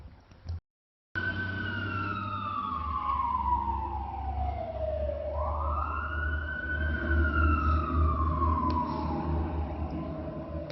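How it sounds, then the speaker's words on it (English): A fire engine siren wails close and loud, its pitch sweeping slowly down and back up over a steady low engine rumble, continuous for about ten seconds. "See a fire engine."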